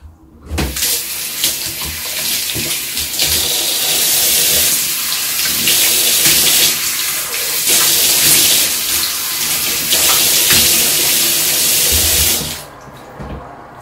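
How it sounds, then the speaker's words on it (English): Tap water runs steadily into a bathroom sink while a face is washed at night, a close, loud, continuous rush that shifts slightly as hands splash, then stops. "I'm just gonna wash my face now for the first round"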